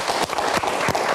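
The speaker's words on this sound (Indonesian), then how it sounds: "Oke, kita berikan tepuk tangan." Studio audience applause fills a televised Indonesian debate show about costly university tuition, a dense, steady wash of clapping with no voices over it.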